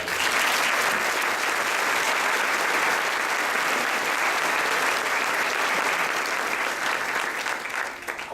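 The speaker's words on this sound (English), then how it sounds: "Let's give them a round of applause." An audience at a student awards event applauds, dense and sustained clapping from a crowd filling the room, steady throughout and tapering slightly at the end.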